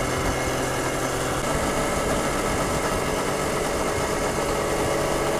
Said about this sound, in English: that engine's sounding a little better all the time